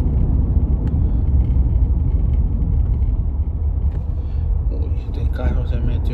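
A car passing close by on a road, a steady loud rumbling engine and tire roar that holds for several seconds before fading, with faint street sounds near the end.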